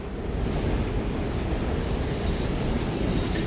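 A train rolls along in the game Resident Evil Requiem, giving a steady, loud, close low rumble with rattling wheel noise that holds evenly throughout and no voices.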